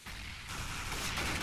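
A grenade explosion in the video game Counter-Strike, a loud, broad roaring blast that swells and sustains across the brief moment, close and heavy with no voices over it.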